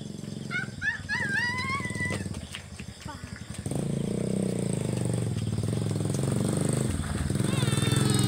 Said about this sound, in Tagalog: Oh, may motor. May motor.